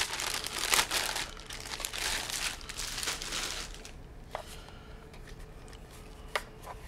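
Plastic packaging around a new Westcott light crinkles and rustles loudly up close in dense bursts, then thins out into a few sharp isolated crackles and snaps.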